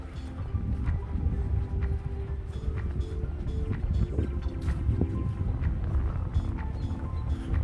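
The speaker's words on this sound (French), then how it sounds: "le vent commence à monter légèrement" Low, rumbling wind noise buffets the microphone steadily on a walk by the water, with faint scattered clicks and rustles over it; no one speaks.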